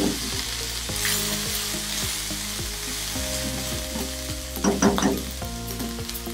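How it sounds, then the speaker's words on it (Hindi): Ginger garlic paste frying in a pan of oil left from frying okra for bhindi masala, a steady close sizzle broken by stirring scrapes and a louder sputtering burst near the end, with no talking. "अब हमने इसमें जिंजर एंड गार्लिक पेस्ट डाल के तो इसको फ्राई कर"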